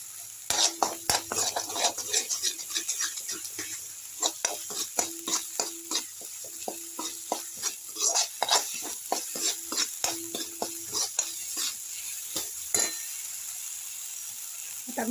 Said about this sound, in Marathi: थोडासा परतून घ्यायचा मसाला जरा.